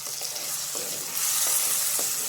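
Green gram curry with chili powder being stirred in a pan: a steady sizzle with a few soft scraping strokes of the spoon, close and alone.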